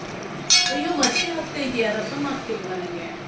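Metal utensils clink against pots as buttermilk is ladled out in a home kitchen, several bright knocks early on followed by softer scraping, with a voice speaking over it.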